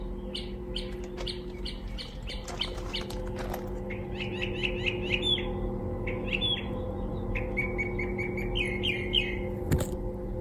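A bird in a garden chirps in quick bursts of repeated high tweets, fairly close and clear over a steady low hum, with no talking.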